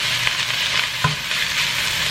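Rice fried in a pan with browning sauce stirred through it, St. Louis style fried rice: a steady close sizzle with soft scraping stir strokes, no talking.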